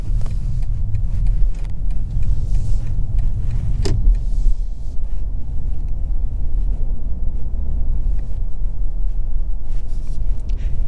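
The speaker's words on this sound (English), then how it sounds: "You can hear just a little bit of the engine" Smooth, muted engine and road hum of a 2023 BMW 740i mild hybrid driving around town, heard from the cabin as a steady low drone with a brief click near the start and no talking.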